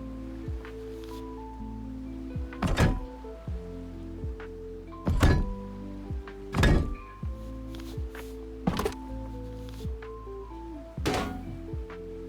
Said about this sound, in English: Moving back down, place all of your cannons on the side decks.